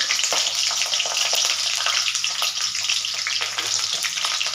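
Sliced capsicum (bell pepper) frying uncovered in hot oil while being stirred, a loud, steady sizzle and crackle running throughout with scattered spattering pops and occasional stirring scrapes.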